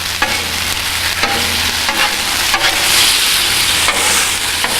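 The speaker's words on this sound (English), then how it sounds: "let that cook for" Corned beef hash sizzles loudly in a pan, a dense continuous frying hiss broken by several sharp scraping strokes as it is stirred, with no talking.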